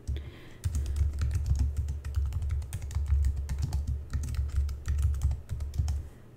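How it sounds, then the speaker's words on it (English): Rapid, uneven typing on a computer keyboard, close and clear, with bursts of keystrokes and short pauses throughout and no voices. "let's type in a comment for our pin"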